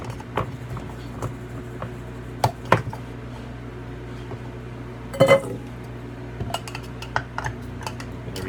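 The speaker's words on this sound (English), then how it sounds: "let my hand and the blade here just do the chopping." A knife blade chops ingredients for a stuffed chicken burger on a board, with scattered light taps and clinks and a few sharper knocks over a steady low kitchen hum.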